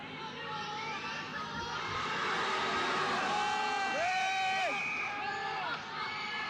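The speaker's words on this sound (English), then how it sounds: "The crowd does sound a little hostile." A concert crowd at a 1976 live show in Liverpool roars and shouts in a dense, continuous wash, with whoops and yells rising and falling over distant amplified music.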